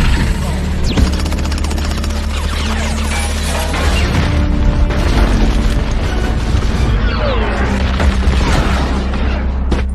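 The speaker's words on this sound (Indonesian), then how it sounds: "Kunang-kunang yang telah menyebar kemudian meledak satu persatu." Robot fireflies burst one after another in a film action scene, a loud dense run of booms, crashes and mechanical clatter packed tightly across the whole stretch.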